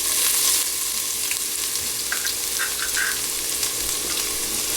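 Ginger and garlic fry in hot oil in a pan for goat curry, a steady close sizzle with light crackles and spits and no talking.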